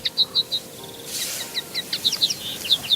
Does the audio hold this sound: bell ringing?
no